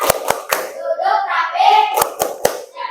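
A primary school class doing the 'tepuk pulang' rhythmic hand-clap at the end of a lesson, sharp claps in a patterned beat interleaved with children chanting together.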